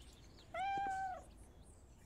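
A cat in the video game Cafe Owner Simulator gives one clear, mid-loud meow, a smooth drawn-out cry of under a second, set against quiet background with no talking.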